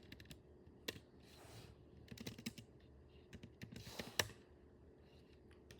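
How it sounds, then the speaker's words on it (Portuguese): Quiet, irregular keystrokes on a computer keyboard, with scattered clicks and short bursts of typing over a faint steady background hum, no talking. "Tô digitando errado."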